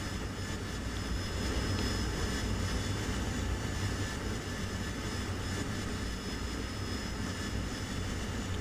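A fixed-wing aircraft engine in the flight simulator game DCS gives a continuous, steady broadband roar with a faint high whine, droning evenly throughout with no talking.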